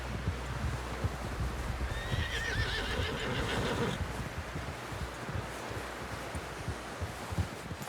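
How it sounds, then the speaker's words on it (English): A horse whinnies loudly in the video game Red Dead Redemption 2, over a steady, noisy background, with hoof clopping and a low thudding rhythm throughout. "Someone help John down off this horse."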